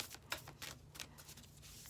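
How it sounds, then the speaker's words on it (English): Oracle cards with a matte finish are shuffled by hand up close, giving soft, quiet riffling and slapping bursts in an irregular rhythm over about two seconds. "Let's shuffle these cards."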